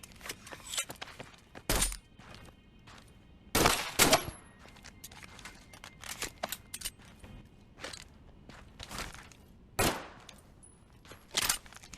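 A gun fires in Medal of Honor: Allied Assault Breakthrough. Scattered, irregular reports come through, with a few loud sharp cracks and several softer pops amid quiet ticking steps.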